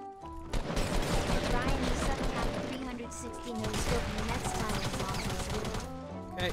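Rapid gunfire from Fortnite matches, a dense, continuous crackle of shots running almost the whole time with talk mixed in.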